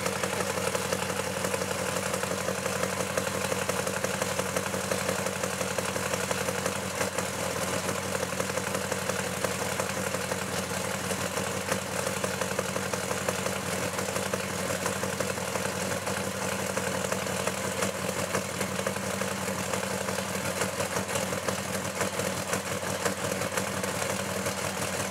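A 1966 Dodge Dart's engine idles close by with a steady, buzzy, motorcycle-like throb that stays level and unbroken, with no voices, for about twenty-five seconds.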